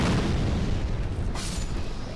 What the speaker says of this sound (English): I just killed the very aggressive creatures making explosions.